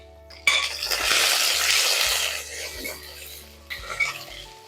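Spices, mint, coriander and curry leaves being sautéed in a pan for a mutton chops gravy: a steady sizzle with stirring scrapes and a light clink of a utensil, close by.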